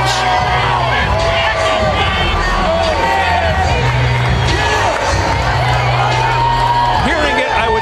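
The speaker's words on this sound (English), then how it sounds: "Hearing it, I would say, rather mildly from the crowd as he comes into view." A boxing arena crowd at a heavyweight fight between Evander Holyfield and James Toney reacts with a loud, continuous roar of cheering, whoops and babble as a fighter comes into view, while a commentator talks over it.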